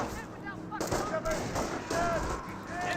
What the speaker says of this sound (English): We have a lot of incoming fire.